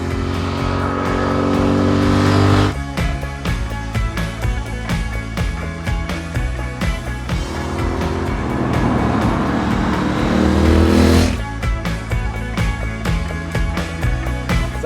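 A loud 2016 Triumph Thruxton R motorcycle engine revs up and down repeatedly, close and rough, with sharp throttle blips between longer sustained pulls.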